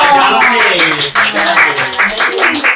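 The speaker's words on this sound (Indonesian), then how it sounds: "mana tepuk tangan dong." A studio audience on a talk show claps in scattered bursts under a man's ongoing, close talking.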